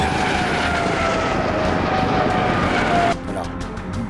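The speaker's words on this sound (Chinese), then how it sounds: "雷达发现我上空有 A 军直升机过来" Military helicopters passing overhead in a Chinese war drama make a loud, continuous engine and rotor roar that cuts down sharply near the end into a quieter rumble.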